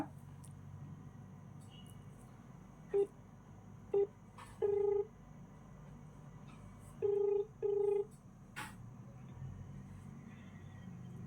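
A call rings through to a 3-phase GSM digital motor starter for an agricultural pump: five faint, short tonal bursts, the last two paired close together, over a low background hum.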